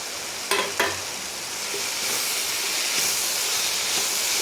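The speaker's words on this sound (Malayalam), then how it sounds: "ഇനി ഇതെല്ലാം കൂടെ നന്നായി വഴറ്റിയെടുക്കാം" Onion and ginger-garlic paste sizzling and frying in a pan, a steady hiss throughout, with a couple of sharp stirring scrapes near the start.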